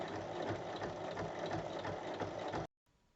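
A sewing machine runs steadily at close range while topstitching along both sides of a fabric seam on a tote bag, a continuous mechanical whir that stops abruptly near the end.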